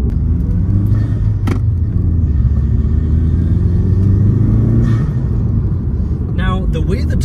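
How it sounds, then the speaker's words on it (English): A 2007 Subaru WRX with the factory EJ25 turbo engine accelerates on a cool, wet road, a loud continuous rumbling drone rising in pitch, with brief sharp transients and someone talking over it. "the way the turbo spools up in this car is definitely interesting"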